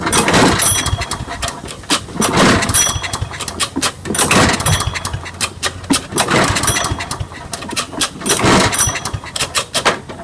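A small lawn mower engine cranks and sputters in repeated bursts of several seconds each, loud and close, as someone tries to get it running after tapping the carburetor during a rebuild.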